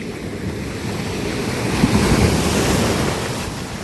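Sea waves crash and wash onto a shoreline in a loud, continuous roar, swelling toward the middle with wind buffeting the microphone and no voices.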